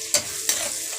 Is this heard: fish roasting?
yes